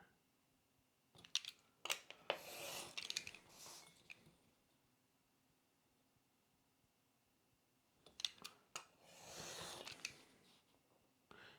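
Scissors snip through paper to make parts for a Star Wars Hoth Echo Base console diorama model, two quiet bursts of crisp clicks and rustling cuts separated by a long silent pause, close and soft.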